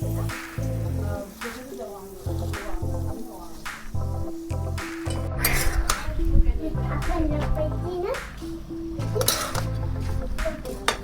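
Wild leafy greens go into a pan of browned onion, with clinks and scrapes of a utensil on the cookware and a faint sizzle, close by under intermittent talk.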